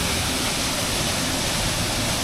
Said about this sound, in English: just looking at a waterfall